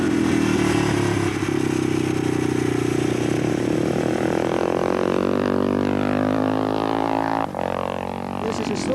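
A supermoto motorcycle ridden hard on a track mixing tarmac and mud in 1990, its engine revving loudly and continuously close by as it works through a slow corner.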